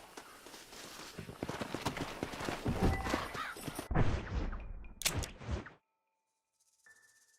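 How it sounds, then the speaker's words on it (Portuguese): A glitched horse in Red Dead Redemption gallops with quick, steady hoofbeats, then whinnies loudly before the sound cuts to near silence, followed by faint ambient tones. "Olha o cavalo bugado."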